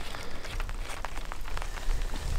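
Rain falls at a winter carp-fishing lake, a soft, steady patter with scattered louder drops striking a surface nearby, heard alone without talk.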